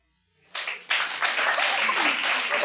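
A 1992 talk-show studio audience breaks into applause after a brief pause, the clapping swelling quickly and continuing as a steady, close patter.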